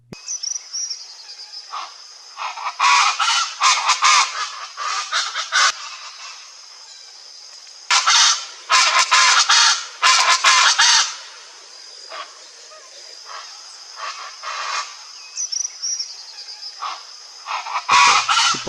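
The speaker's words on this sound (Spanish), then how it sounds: "otro animal muy hermoso, pero muy ruidoso, son las chachas" Chachalacas in the Pacaya area of Coatepeque, Quetzaltenango, give loud, raucous honking calls in repeated bursts, with quieter chattering and a steady insect drone between the outbursts.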